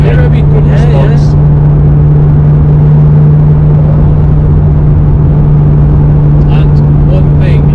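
Nissan GTR R32 engine held at a loud, steady rev with a strong constant hum, heard from inside the car while people speak over it.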